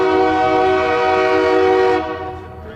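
A passing train sounds its horn in a loud, sustained chord for about two seconds, then cuts off abruptly, leaving a faint rumble of rail noise.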